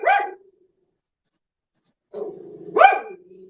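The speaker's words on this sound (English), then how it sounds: "Unless they're just barking, just to bark" Dogs bark twice, a short close bark at the start and then another after a faint growl, with silence between them.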